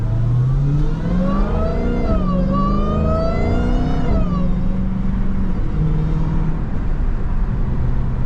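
A Dodge Hellcat engine roars loud and close as the car accelerates hard in traffic. The pitch sweeps up through the gears, dips at a shift, then climbs again, sustained for several seconds.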